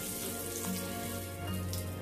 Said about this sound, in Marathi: तमालपत्र, हिरवी वेलची, 2 लवंगा आणि जिरं हे आपल्याला अगदी 1/2 मिनिटभर असे रोस्ट करून घ्यायचे आहे